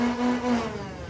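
Flywheel motors of a Nerf Rival Khaos blaster spin up from the rev trigger, a steady mid-pitched electric whine lasting about a second and fading slightly at the end.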